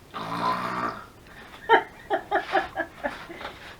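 A woman imitates snoring with a drawn-out nasal snort, then a rapid series of short, piggy snorts and snuffles, close and alone.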